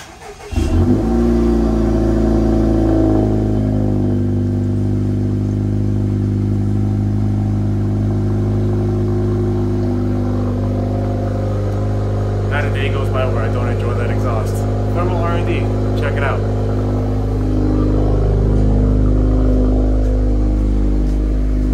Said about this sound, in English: let's give you guys a little cold start to let you guys hear how this car sounds